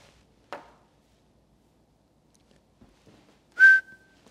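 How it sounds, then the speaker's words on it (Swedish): A single whistled note from one person competing in a whistling contest, short and clear after a near-silent stretch, preceded by a faint breathy attempt. "den som visslar först vinner"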